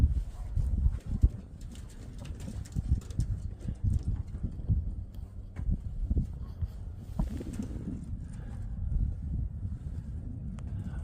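Pigeons coo low and muffled throughout on a cold day outdoors, with a steady rumble of wind and handling noise. No one speaks.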